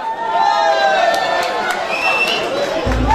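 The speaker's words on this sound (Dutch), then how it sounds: "jullie applaus voor het optreden" A crowd at a show cheers and shouts after a performance, with children's high voices rising over a steady wash of noise, fairly loud and close, before a low thump near the end.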